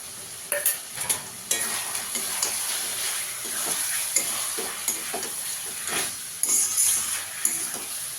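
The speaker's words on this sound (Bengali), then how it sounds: "টক দইটা দিয়ে একটু কষিয়ে নেব। কাঁচা লঙ্কা দিয়ে দিচ্ছি" A curry with sour yogurt, green chili and spices sizzles steadily in a pan while a utensil scrapes and stirs it in uneven, close knocks.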